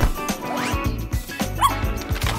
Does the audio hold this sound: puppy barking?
yes